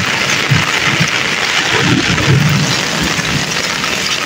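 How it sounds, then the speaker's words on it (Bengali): Heavy rain pours steadily over a village in Gournagar, a dense, continuous hiss that stays close and even for the whole stretch, with low rumbles underneath and no voices. "কঠিন বৃষ্টি হইতেছে, কঠিন।"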